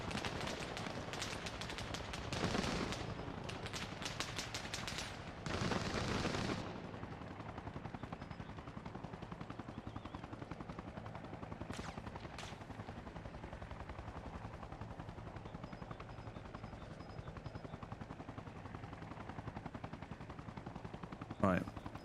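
Gunfire in the video game Arma Reforger, rapid bursts of automatic fire and single shots crackling in the opening seconds, then sparser distant reports over a constant low rumble, with voices talking over it.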